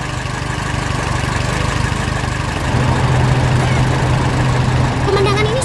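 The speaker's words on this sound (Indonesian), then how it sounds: "Suara mesinnya menggelegar membuat seluruh pertanian bergetar." A yellow cartoon tractor's engine rumbles loudly and continuously on a farm, its heavy drone swelling a little halfway through, with a brief chirpy squeak near the end.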